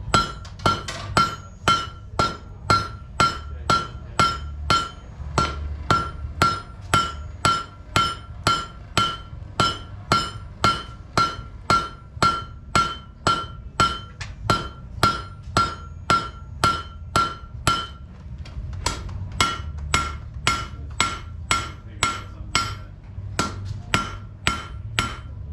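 Steady, rhythmic hammer blows on hot iron at a blacksmith's forge, making a forge weld; about forty sharp, ringing strikes close up, evenly paced with a brief pause before the hammering resumes.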